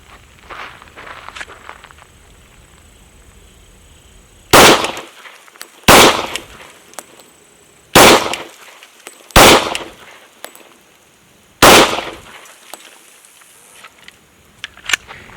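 Handgun fired slowly at a close-range target: five loud, sharp shots spaced a second or two apart, each followed by brief quiet, after faint background rustling.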